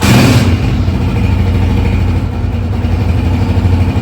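A 2003 Honda 125cc motorcycle engine runs steadily at idle, a continuous low rumble close by with no talking.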